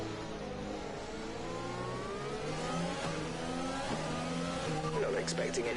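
A McLaren Formula 1 car engine in the F1 2020 video game at Baku revs and shifts through gears with a high, rising whine, while a voice talks over it.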